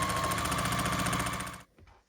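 A sewing machine running fast and steady while stitching quilt pieces into rows, a close, even mechanical whir that stops after about a second and a half, leaving a few faint handling clicks.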